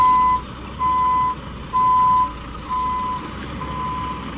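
A dump truck's reversing alarm beeps in slow, regular pulses at a nighttime flagpole installation site, loud over a steady rumble of the engine idling.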